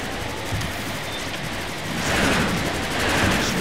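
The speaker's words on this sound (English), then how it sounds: "spam a full clip of plasma cannon rounds at the far dude" Rapid plasma cannon fire in Transformers: Rise of the Dark Spark, a dense continuous crackle of shots swelling louder partway through, with no talk over it.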